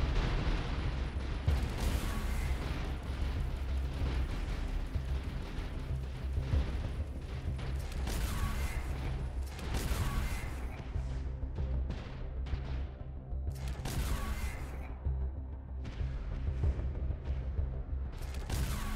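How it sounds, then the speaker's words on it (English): Torpedoes firing and exploding in a space battle in the video game Avorion: a dense, continuous rumble of blasts with repeated sharper bursts throughout, loud and without speech. "I have to use all my torpedoes because they are dealing quite a fair bit of damage"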